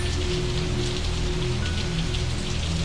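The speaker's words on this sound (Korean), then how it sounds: "비가 추적추적 내리던 밤," Steady rain falls through the night, a dense, even patter of drops on surfaces with a low background hum underneath, continuous and unbroken with no voices.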